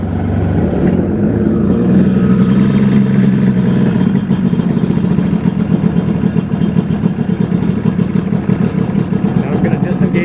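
A Mini-500 helicopter engine started from the ignition button, catching about a second in and settling into a loud, steady, rapidly pulsing idle that continues throughout.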